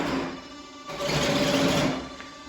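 Servos on a Mamba120 RC plane whir as they drive the elevator, a close, buzzing mechanical sound that swells and fades over about two seconds.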